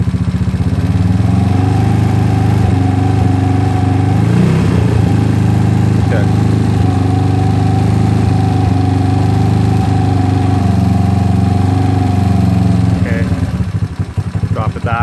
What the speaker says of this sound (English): You gotta go by ear and feel a little bit how your engine's behaving.